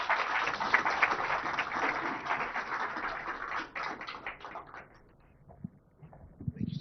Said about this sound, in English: join me in giving the Honorable IT Minister a big round of applause